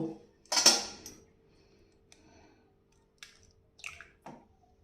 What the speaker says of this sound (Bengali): এবার দিয়ে দেবো একটা ডিমকে এই চিনির গুঁড়োর ভিতরে ফাটিয়ে নেব।